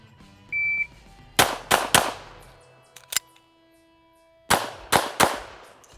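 Competition pistol shots on a range: a short electronic beep, then about seven sharp, loud cracks fired in quick bursts with brief silent gaps between them.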